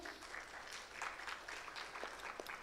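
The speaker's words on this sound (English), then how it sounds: "a big round of applause for my entire panel" Applause for a panel at a climate resilience discussion in Pakistan, a faint, moderately dense patter of clapping from a modest audience, steady across the short stretch.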